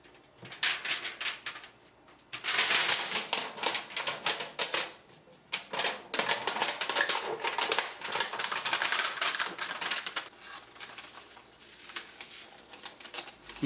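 Stainless steel tool wrap foil is folded around a kiridashi knife blade, giving bursts of crinkling, crackling rustles in uneven clusters with short pauses, close and without talk.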